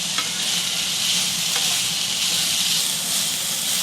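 Onion greens with salt frying in a pan, a loud, dense, steady hiss of sizzling oil that holds nearly unchanged throughout, with a couple of faint stirring ticks.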